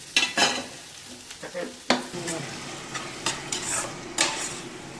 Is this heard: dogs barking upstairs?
no